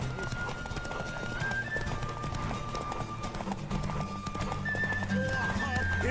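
Roach, Geralt's horse in The Witcher 3, gallops in a derby race with a quick rhythmic clip-clop of hooves, close and continuous, under a voice.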